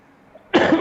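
A man coughs once, suddenly and loudly, close to the microphone, with a short second burst following, after a near-silent lull on a call while he is ill with a cough and fever.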